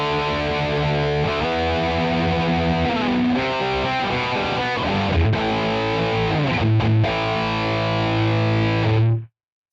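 Heavily distorted electric guitar through a Quad Cortex high-gain preset with hall reverb and heavy EQ, playing loud sustained chords and riffs with thick low end for about nine seconds, then cutting off abruptly.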